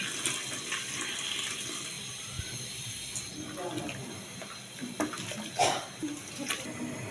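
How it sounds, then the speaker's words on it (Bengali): Boiled water gushes steadily into a biryani cooking pot, a continuous pouring splash up close with occasional clinks and a voice murmuring. "এই যে আমি পানি ফুটিয়ে রেখেছিলাম এখন এই যে পানিগুলো দিয়ে দিচ্ছি"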